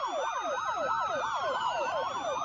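Fire truck siren from a fire station heading to a wildfire during a safety drill, a rapid wailing yelp that cycles steadily and loudly with a faint sustained tone above it, no speech.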